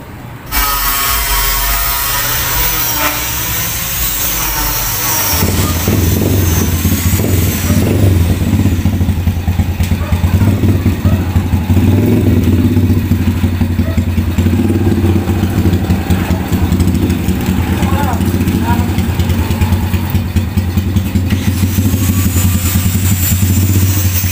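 A small motorcycle engine powering an improvised winch runs continuously, its pitch rising as it labors under load after a few seconds, with a steady mechanical drone and faint rattling.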